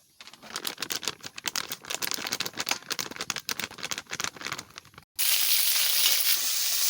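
Pieces of paneer crackle and spit in hot oil, a dense patter of sizzling pops close up, then a steady bright hiss of frying takes over.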